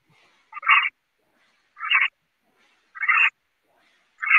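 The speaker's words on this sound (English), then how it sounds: "Is there birds squirking in your backyard or something?" Four evenly spaced, close, loud croaking calls in a backyard, each burst short and raspy, separated by near silence.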